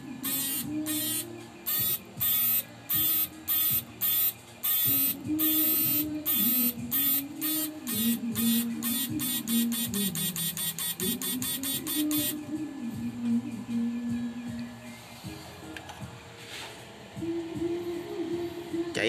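Electronic chirps from a hybrid mechanical-electronic machine running at full power, sharp rhythmic pulses that speed into a rapid burst, then stop, over a loud steady low drone.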